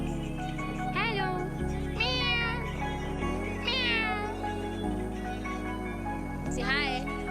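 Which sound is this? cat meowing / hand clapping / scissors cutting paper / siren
cat meowing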